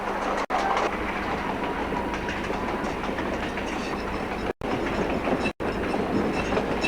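Passenger train rolling on rails across Canada, a steady loud rumble of wheels and carriage noise with faint rhythmic clatter, close and continuous with brief dropouts, no talking.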